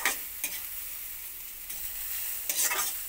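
Grated carrot frying together with chopped onion, ginger and garlic in a pan, giving a quiet, steady sizzle with a few sharp stirring scrapes near the start and end.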